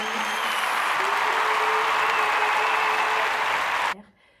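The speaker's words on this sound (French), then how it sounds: "On applaudit bien fort" Loud sustained applause from an audience, a dense wash of clapping at steady volume that cuts off abruptly near the end, leaving near silence.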